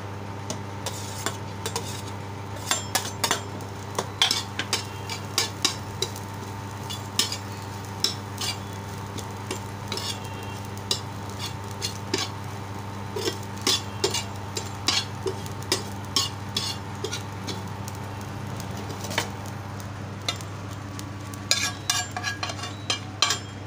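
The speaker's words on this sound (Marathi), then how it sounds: "आता हे मी वाटप क्रमाक्रमाने गरम तव्यावर भाजून घेणार आहे" Garlic cloves, ginger and coconut dry-roasted on a hot iron griddle for a Marathi vegetable masala, with repeated scraping and stirring clicks of a spatula over a constant low hum, steady and close.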